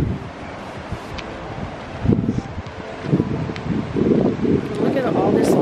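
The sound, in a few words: floodwater rushing at a lake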